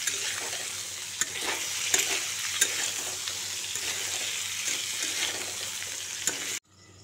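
Pork and onions for an Assamese-style pork dish are stirred in a sizzling pan, a steady close frying hiss punctuated by scrapes and clicks of the spoon, cutting off abruptly near the end.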